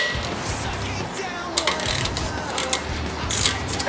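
A bolt being turned with a ratchet to push a rear brake rotor off the hub of a 2000 Toyota Landcruiser Prado, a series of close metallic clicks and creaks over a low background hum.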